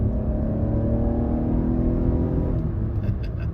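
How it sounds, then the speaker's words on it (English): 2024 Lexus TX550h+ plug-in hybrid SUV pulling away from a stop in sport mode: a steady, close engine drone with rising tonal whine and no gear changes, heard from inside the cabin. "Start from a stop here. in sport mode."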